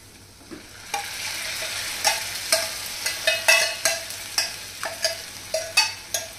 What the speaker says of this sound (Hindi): और लगातार चलाते हुए हम इसको पकाएंगे जब तक कि दही में उबाल ना आ जाए